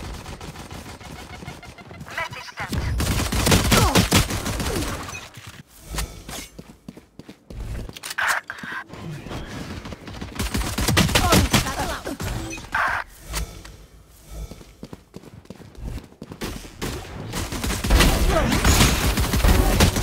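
Valorant team deathmatch gunfire: repeated bursts of rapid automatic shots and fusillades, loud and close, with gaps between volleys and occasional footsteps and impacts.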